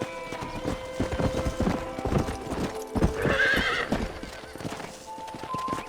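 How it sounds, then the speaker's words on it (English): Horse hooves clip-clop steadily while a horse lets out a loud whinny midway, close and clear, from a video game set on a ranch. "I picked out a fine horse for you."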